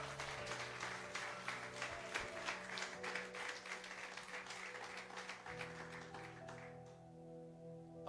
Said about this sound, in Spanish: ¿Alguien puede aplaudir en nombre de Jesús?